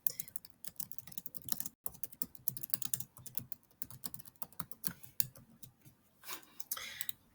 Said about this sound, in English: I'm going to type it right in here